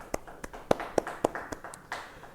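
A handful of separate, fairly quiet hand claps at a steady, slightly uneven pace ring out in a church hall during a Christmas service, with no talk over them.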